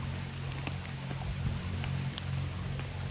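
Heavy rain falls over a forest stream, a steady dense hiss with a low rumble underneath and scattered sharper drop impacts, fairly faint and continuous throughout.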